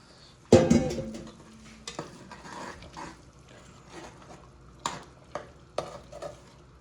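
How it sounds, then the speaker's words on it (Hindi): Washed meat hits a hot pot with yogurt and frying begins: a loud initial sizzling burst, then stirring scrapes and intermittent clinks of a utensil against the pot. "गोश्त हमने धो लिया है तो चलिए डालते हैं इसमें।"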